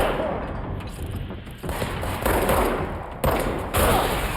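Continuous rapid weapon fire in the video game Control, a dense rattling burst of self-recharging gunfire with brief dips around one and a half and three seconds, loud and steady throughout.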